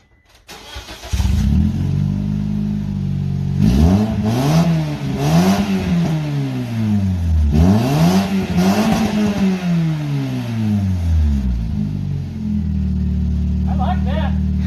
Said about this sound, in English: See what this thing sounds like with no muffler on the back.